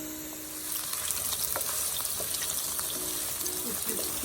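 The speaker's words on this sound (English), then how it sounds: "we're going to brown the tofu as evenly as possible" Tofu browns in a hot pan, a steady soft sizzle and crackle of frying at close range with faint clinks of stirring, no talk.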